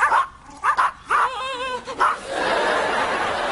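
A few sharp dog barks in quick succession, fairly close, followed by a steady hiss of background noise.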